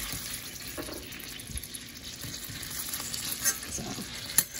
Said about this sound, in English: So I'm gonna add these sausages in there and just let them cook.